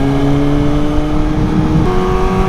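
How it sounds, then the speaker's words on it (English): Suzuki GSX-S 750 motorcycle with a fully decatted exhaust and the baffle removed, engine droning loud and steady at mid revs in third gear on the road, a continuous close, throaty hum with no voices. "this bike is full decat, baffle removed"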